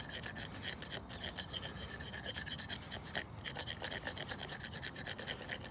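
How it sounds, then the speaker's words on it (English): Rapid rasping strokes of a blade scraping soaked wood into sawdust for fire-starting, close and continuous with an even scratchy rhythm throughout. "I'm just gonna scrape it up into pretty much sawdust."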